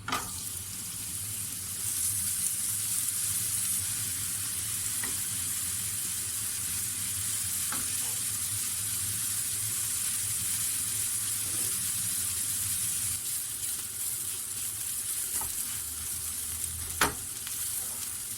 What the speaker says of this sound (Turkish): ben havuçlarımı e, yağımla birlikte e, tavamda soteleyeceğim